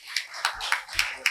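Audience at a book launch claps in a few sharp, separate bursts, close and fairly light, over a quiet room.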